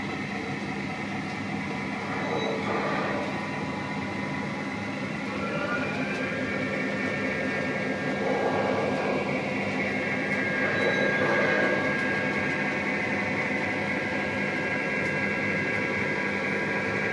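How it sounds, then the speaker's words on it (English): A locomotive runs nearby with a continuous rumbling rail noise, a low hum and scattered higher squeals and clanks that swell and ease over time, with no voices. "Yeah, that's right. I bought another locomotive right now."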